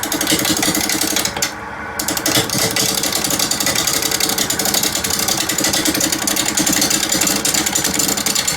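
A wood lathe turns a fatwood bowl at 650 RPM, giving a steady, loud mechanical drone with a continuous whir and hum that barely changes, briefly dipping once near the start.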